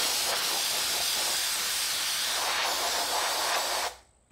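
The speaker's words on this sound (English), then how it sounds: "So let's blast any WD-40 out of there." A loud, continuous spray hisses close by as compressed air or aerosol blasts leftover WD-40 out of an 18-20V power tool battery, holding steady for about four seconds before cutting off sharply.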